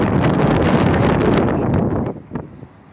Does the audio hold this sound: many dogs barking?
no